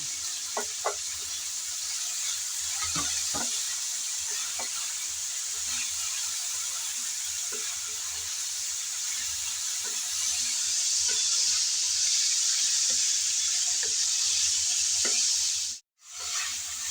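Cauliflower and carrots fry in a pan with a soft, steady sizzle, while intermittent stirring taps and scrapes recur throughout.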